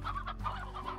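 A chicken in the Slime Rancher video game clucks in a quick, close run of short burbling notes, alone and fairly loud.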